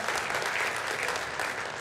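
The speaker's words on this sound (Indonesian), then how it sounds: "Beri tepuk tangan yang dahsyat bagi Tuhan kita." A church congregation claps loudly and steadily, a dense wash of applause throughout.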